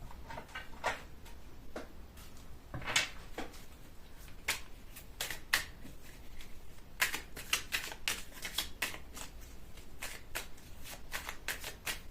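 Playing cards are shuffled and picked from a deck, giving quiet, close bursts of crisp riffling and snapping flicks spread irregularly across the stretch, with no talk.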